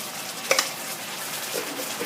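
Rice noodles stir-fried with squid and shrimp sizzle steadily in a pan, with a couple of sharp utensil clinks near the start and soft scraping stirs later, close and without speech.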